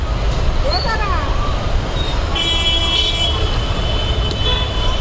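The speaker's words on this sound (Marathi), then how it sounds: "ट्रॅफिक बघा आमच्या कोपरच्या नाक्यावर ट्रॅफिक" Busy road traffic at a street-corner junction rumbles continuously while car horns toot several times, some short, one held longer, with voices nearby.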